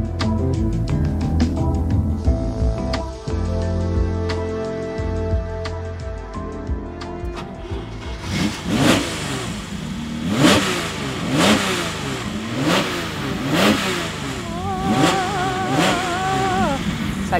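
A Ferrari 250 GTO's engine revs hard and accelerates in a series of loud, close, rising bursts during a race, following a calmer tonal opening.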